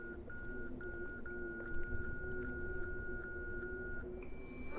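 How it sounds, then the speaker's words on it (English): Repeating electronic beeps from a Conarium device in the horror video game Conarium, a steady chirping pulse roughly every half second over a low ambient drone, without talk. "I do have beeping."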